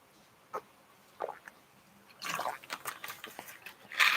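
Someone sips old water from a glass, first with a few faint wet slurps, then a louder stretch of swallowing and liquid sounds close to the microphone.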